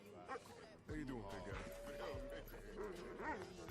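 A dog in the video game GTA gives yipping barks and whimpers, close and clear, mixed with people talking over it.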